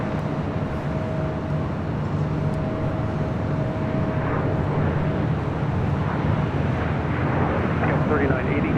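An airliner lands on runway 24 left at LAX with a continuous jet roar and a faint steady tonal hum. The sound swells gently over several seconds, and voices are heard faintly underneath.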